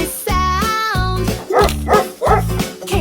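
A dog barks in a quick series of four or five sharp, close woofs, loud and clear with brief pauses between them and no talking.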